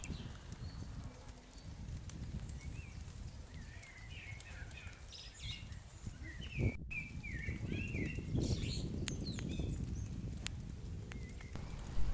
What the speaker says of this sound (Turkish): kuşların da sesi gelmeye başladı